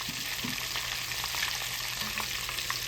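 Breaded shrimp frying in hot oil at about 375 degrees, a steady, bright bubbling sizzle with small pops, heard close and moderately loud, with no voices.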